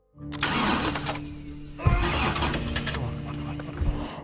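A car engine cranking repeatedly without catching, a loud, close, whirring starter drone that surges again after a brief dip and keeps labouring without the engine firing.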